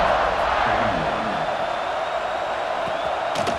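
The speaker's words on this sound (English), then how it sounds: "this crowd is buzzing after that last score" A college football stadium crowd at South Carolina vs Notre Dame buzzes after a score, a broad, steady roar that fills the whole stretch, with faint voices and a few sharp sounds in the mix.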